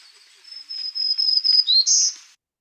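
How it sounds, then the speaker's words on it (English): A black-throated green warbler sings a single recorded phrase, a thin high buzzy series of notes ending in a brighter rising buzz, clear and isolated against silence. "one individual of the black-throated green warbler was observed singing"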